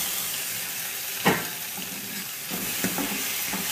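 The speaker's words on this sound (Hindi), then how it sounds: "अब हम इसमें टमाटर डालेंगे दोस्तों।" Steady sizzling of tomatoes added to browned onions in a hot pan for tuar dal, with a few brief stirring clatters over the constant frying hiss.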